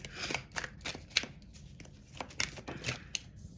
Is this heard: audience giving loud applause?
no